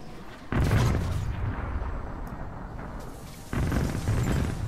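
Bombs go off in League of Legends: two heavy, rumbling blasts each trail into a long roar, loud and close, with no voices.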